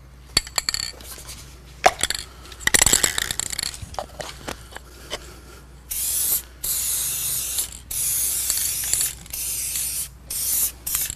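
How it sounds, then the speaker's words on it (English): Spray coating applied inside a flood-damaged Pac-Man arcade cabinet: after some clattering handling noises, a series of loud, close hissing spray bursts of a few seconds each, separated by short pauses. "We'll get the inside all sprayed, and then I'll go ahead and start rolling it."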